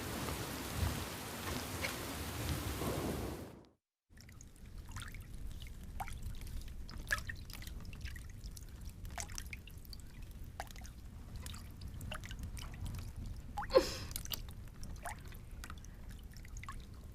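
Steady heavy rain pours down, with a short silent break early on and scattered drips and splats; a brief louder crack stands out near the end, though no clear thunder rumble.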